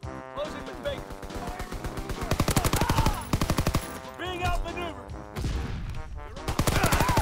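Rapid bursts of PPSh-41 submachine gun fire in Call of Duty WW2, loud and close, in repeated stuttering volleys over steady game noise, with a voice talking at times.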